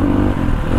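A dirt bike motorcycle engine runs loud and close in a brief burst, a rough, steady drone with clattering mechanical texture and no voices over it.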